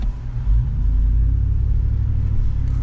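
A 2002 Cadillac Escalade rolls slowly around a parking lot, its engine giving a steady, close, low rumble with a slight rise in revs near the start, heard alone without talk.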